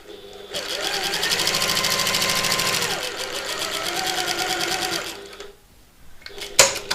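Sewing machine running a fast, steady stitch along a fabric edge to hold flimsy layers together with a narrow 1/8-inch seam, loud and continuous for several seconds before stopping, followed by a few soft clicks.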